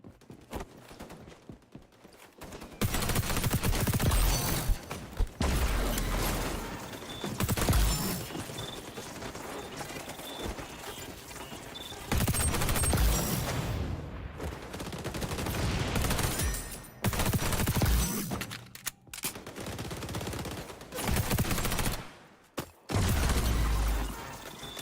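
Rapid shotgun blasts and bursts of gunfire in the online shooter XDefiant, loud dense volleys with brief pauses and clicking mechanisms between them, no talk.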